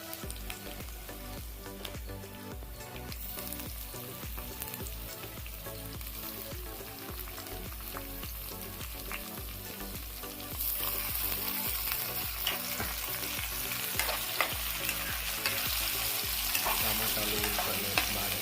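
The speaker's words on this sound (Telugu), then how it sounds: "ఇప్పుడు మనం కట్ చేసి పెట్టుకున్న టమాటాలు వేసుకుందాం" Chopped tomatoes fry with drumsticks in a pan as a steady, close sizzle with light stirring throughout, growing brighter and louder partway through and continuing alone without talk.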